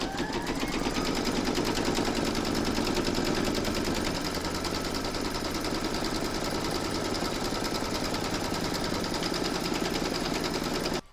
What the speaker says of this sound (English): Pop your hoop back into your machine and stitch round number two.